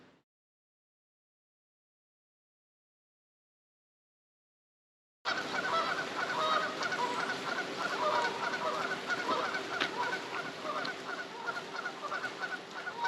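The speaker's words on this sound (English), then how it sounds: "So 2 geese while I'm trying to film." Two geese honking outdoors, a sudden burst of repeated loud honks starting partway in after near silence, continuing irregularly to the end.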